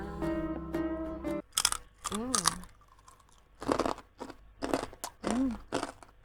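Crispy fried pork intestine chicharon is bitten into with loud, close crunches, followed by chewing in several bursts. A person talks between the bites.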